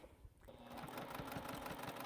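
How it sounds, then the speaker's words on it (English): A home sewing machine stitching during a quilting session, a fast steady rhythmic chatter that starts after a brief pause and runs continuously, close and moderately loud. "continue on the sewing machine"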